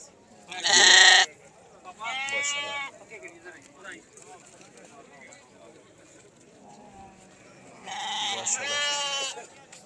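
Loud sheep bleats ring out at a livestock market in Talagang, Punjab, in bursts, one early, another soon after, and a pair near the end, with quieter background chatter in between.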